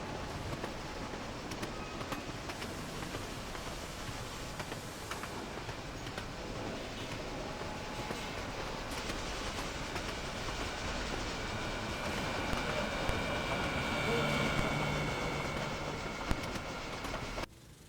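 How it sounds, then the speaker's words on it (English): A Norfolk & Western steam coal train powered by Y6B locomotives rolls past with a continuous rumble and rattle of wagons, growing somewhat louder toward the end before cutting off. "an N&W coal train screams by unexpectedly, with two more Y6Bs for power"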